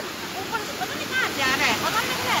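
Floodwater pours down a blocked drainage channel in Kullu, Himachal Pradesh, after a disaster, a steady, close, broadband rushing that swells slightly in the second half, with people talking over it.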